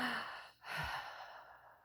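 A voice imitates heavy breathing: a long, breathy exhale, a brief pause, then a deep, drawn-out rasping breath, close and fairly quiet.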